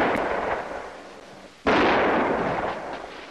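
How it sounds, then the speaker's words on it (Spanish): A single sharp gunshot-like blast in a Western drama cuts through a dim noisy backdrop, then rings out with a long broad decay; only one clear report stands out rather than three. "¿Oyeron? Tres disparos."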